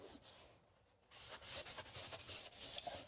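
Scrubbing adhesive residue off a surface after applying WD-40: close rough rubbing strokes, quiet at first, then a brief pause and a run of firmer repeated scrubs.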